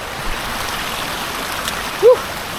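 Rainwater runoff streams down from the hills in Kyrgyzstan after a downpour, a steady close rushing flow of water with a brief splash near the end.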